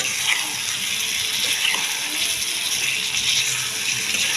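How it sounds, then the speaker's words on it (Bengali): Steady broadband rush of tap water running into a sink while a plate and bowl are washed after cooking egg and potato curry, continuous and fairly close, with no voices. "থালাটা ধুয়ে বাটিটা ধুয়ে একটু জল দেবো"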